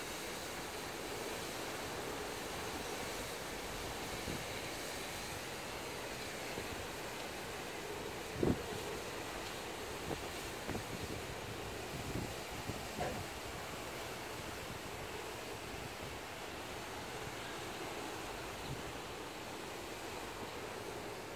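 Strong wind roars steadily outdoors as a dense, unbroken rush, buffeting the microphone, with a few faint knocks and thumps scattered through it.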